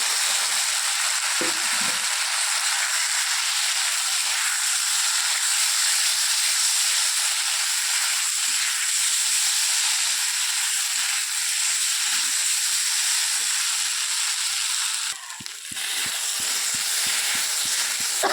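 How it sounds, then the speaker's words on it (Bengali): Cauliflower, potato and soybean pieces fry in a pan with turmeric, a dense, steady sizzle and hiss running throughout, briefly dipping near the end as the food is stirred. "একটু ভাজা ভাজা করতে হবে"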